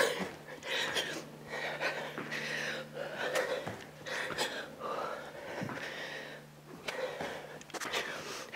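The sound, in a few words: heavy breathing during a cardio workout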